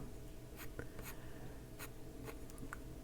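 Colored pencil coloring on paper, a faint close scratchy scribbling in short strokes with soft taps, no talk.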